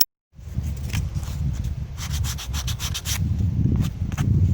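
Six wooden pieces for a Jacob's ladder toy are hand-sanded to smooth their sharp edges, producing close, steady rubbing and scraping strokes in a repeated back-and-forth rhythm that starts after a brief silence.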